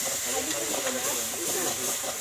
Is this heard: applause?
no